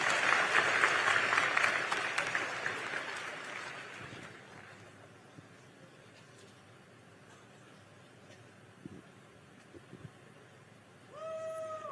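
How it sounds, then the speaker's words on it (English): Audience applause for a young man named Liam at a political event: a full burst of clapping that fades out after about four seconds, leaving quiet room noise with a few faint sounds and a rising tone at the end. "Give Liam a round of applause, folks, for being brave and asking a tough question."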